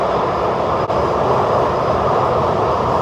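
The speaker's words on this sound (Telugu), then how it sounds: "ఈ ట్రైన్ వచ్చింది, ఇదే అనమాట బ్రిస్బేన్ వెళ్తుంది" A train pulls into a station bound for Brisbane, a loud continuous rumble and roar that stays even throughout with no voices.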